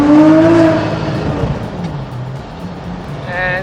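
A Porsche GT3 engine roars loudly and close as it revs and pulls away, then fades to a lower drone before rising again, its sound echoing through an underpass.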